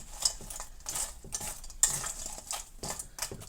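Fruit crumble filling being mixed in a bowl, with a steady run of soft scraping and clinking strokes from a utensil, close up and with no talk.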